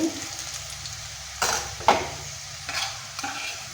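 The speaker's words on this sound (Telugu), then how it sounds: "ఉల్లిపాయ ముక్కలు వేగిపోయినాయండి" Sliced onion pieces frying in a pan for a Telugu ivy gourd (dondakaya) stir-fry, with a steady low sizzle broken by a few louder stirring scrapes and clinks, close up and without speech.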